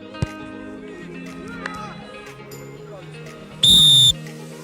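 A referee blows a whistle for a penalty in a U16 youth football match, Melun-Cesson. A single loud, sharp, sustained blast comes near the end over steady background voices and pitch noise.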